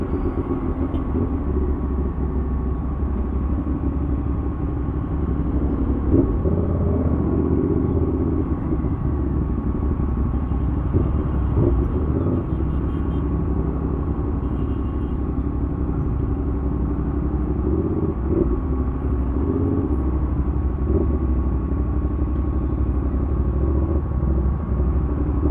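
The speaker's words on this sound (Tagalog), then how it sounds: "Commonwealth pa yan, o tingnan mo, traffic yan o" Heavy motorcycle and car traffic on Commonwealth Avenue in a jam, heard from a CFmoto 450SR sport bike as a loud, steady engine rumble and drone that continues unbroken throughout, with no voices.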